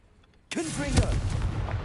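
Confringo, a blasting spell in Hogwarts Legacy, goes off as a sudden loud burst that rolls into a sustained rumbling roar for more than a second.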